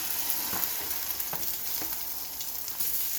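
A potato tortilla sizzling steadily as it is slid back into a hot frying pan, with a loud, even crackle of oil and a few soft scraping touches.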